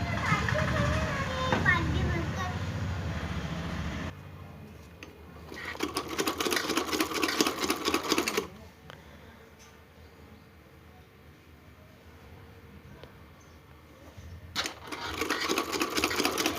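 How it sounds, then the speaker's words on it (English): Sewing machine stitching along the folded sides of a fabric face mask, its rapid mechanical whirring coming in bursts with quiet pauses between, preceded by children's voices and talk. "Now we will give a stitching along the sides towards inner side. Like this we will fold it and give it a stitch."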